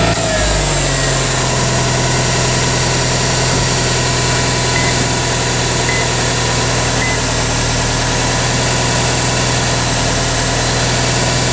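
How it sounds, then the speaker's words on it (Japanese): A car engine starts and settles into a steady, loud idle that drones on evenly during a pre-trip check for any unusual noise, with no talking over it. "じゃあちょっとエンジンかけて、異音がしないかどうかだけ最後見てみましょう。"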